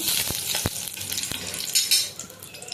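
Dried red chillies fry in hot oil, heard as a close, bright sizzle with a few sharp clicks from a spoon or pan at irregular moments over a short stretch, with no speech.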